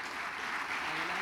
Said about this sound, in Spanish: La recibimos con un aplauso para que se nos relaje